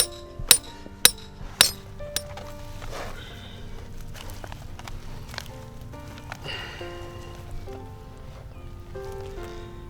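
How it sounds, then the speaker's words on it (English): A hammer strikes outdoors while a trap is set on a farm trapline for beavers, four crisp hits in quick succession followed by quieter rustling and handling noises. "Oh, I'll need to get that hammer from Will."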